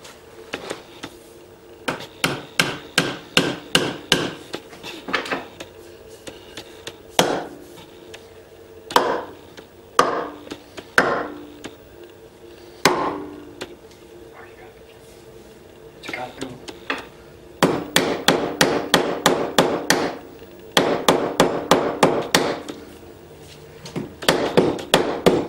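Wooden pieces of a Thor's hammer are knocked together while it is assembled, with close, sharp taps in quick bursts and scattered single blows and pauses between.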